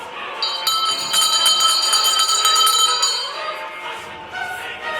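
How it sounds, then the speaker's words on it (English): A bell rings at a river steamer landing station, with several bright, ringing strokes that carry a sustained metallic shimmer for a few seconds before fading. No voices are heard. "I will ring the bell."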